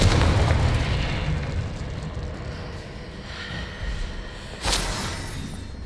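A Confringo fire spell bursting in the video game Hogwarts Legacy, heard as a loud explosive boom over a dense rumbling game soundscape, followed by a second sharp blast near the end.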